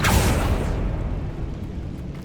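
A Confringo spell in the Hogwarts Legacy game erupts in a single loud, close blast with a whooshing rush, then rumbles and decays over a couple of seconds, with no voices over it.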